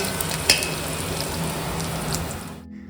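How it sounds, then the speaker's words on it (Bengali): Potatoes frying with spices in ghee, a steady close sizzle with a brief clink near the start before the sound cuts off abruptly. "আলুর সাথে মশলা যে হারে কষছে"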